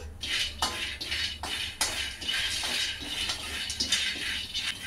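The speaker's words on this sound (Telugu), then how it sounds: "పల్లీలను మాడకుండా కలుపుతూ వేయించండి." Peanuts are stirred and roasted in a kadai over a low to medium flame, with repeated rattling scrapes of the utensil and rolling nuts in a steady rhythm, close and fairly loud.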